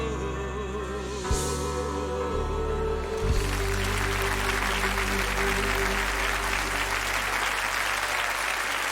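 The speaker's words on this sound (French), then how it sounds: "On peut les applaudir très fort." A concert audience bursts into loud, sustained applause for a choir at a '300 Chœurs' show, following a sung passage. The clapping swells from about three seconds and continues as a dense, steady roar.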